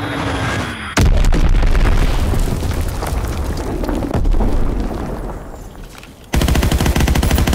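Video game battle with a bomb explosion and bursts of heavy machine-gun fire, loud and close, a sharp blast at the start and another barrage near the end.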